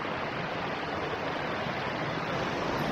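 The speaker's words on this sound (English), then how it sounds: "Finca del Mundo, end of the world waterfall." The End of the World waterfall at Finca del Mundo roars as a dense, unbroken wash of falling water, steady and fairly close, with no other sounds standing out.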